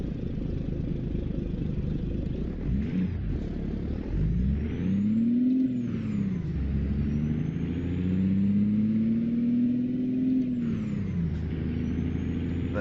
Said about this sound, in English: Listen to that truck, it just sounds beautiful.